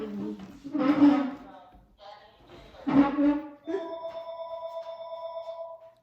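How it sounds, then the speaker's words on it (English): A phone rings in a home setting, a repeated electronic ringing tone that follows two bursts of speech and continues steadily for a couple of seconds. "So, now your phone is ringing."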